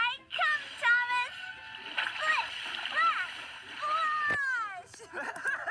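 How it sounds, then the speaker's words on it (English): An animated tank engine splashes through muddy water with wet splatters and sloshing, set beneath voices talking almost throughout. "Muddy water splattered everywhere."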